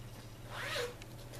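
A full-width zipper on the back pocket of a fabric tech and tablet bag, drawn once in a single smooth rasping pull, close and fairly soft, with no talking.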